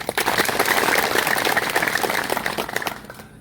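An audience breaks into warm, sustained applause, a dense wash of many hands clapping close and loud for about three seconds before fading out.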